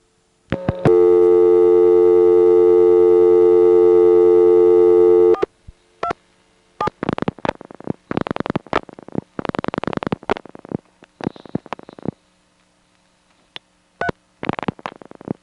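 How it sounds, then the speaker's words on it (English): Telephone exchange tones on a 1977 step-by-step switching system in Monroe, New York: a long steady tone for about five seconds, then irregular clicks and bursts of dialing and switching sounds, close and without talk. "The director dials 358, and then there's another one of those mystery events."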